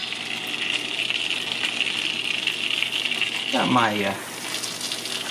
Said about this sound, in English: It sounds like our butter's kind of getting going here.